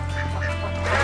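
Ducks quack in a short burst of several nasal calls, fairly close and clear over a low background hum.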